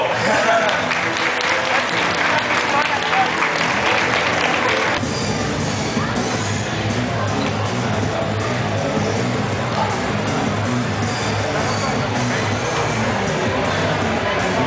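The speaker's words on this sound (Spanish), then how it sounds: "Un aplauso." Festival audience at a winter anime and kawaii event applauding, a steady, dense wash of clapping with some cheering that carries on evenly throughout at a constant level.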